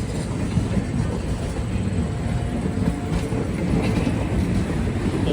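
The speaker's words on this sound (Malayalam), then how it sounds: "ഇതിലൂടെ ഒരു ട്രെയിൻ വരുന്ന കാണുന്നില്ലേ?" The Amrita Express rolls into a railway junction with a heavy, steady rumble and rattling wagons, loud and close throughout, with faint clicks of wheels over rail joints.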